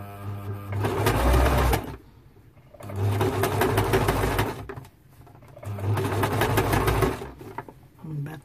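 A domestic sewing machine stitches a 5/8 inch seam on a casual men's shirt in three steady, close bursts, each running a couple of seconds and separated by short pauses.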